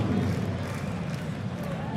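Darts arena crowd at the Nordic Darts Masters applauding a score of 100, a steady, dense wash of clapping and murmur filling the hall with no clear pauses.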